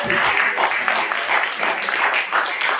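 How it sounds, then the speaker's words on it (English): Dense, steady applause from a crowd, continuous clapping with no gaps, fairly loud throughout. "I think that deserves a round of applause"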